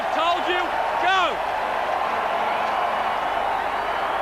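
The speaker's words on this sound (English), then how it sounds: "the crowd give an ironic cheer" Rugby league crowd at a 1998 NRL match between the Cowboys and Broncos raising a brief, loud ironic cheer, with a commentator's voice over the top at first and a steady stadium roar continuing underneath.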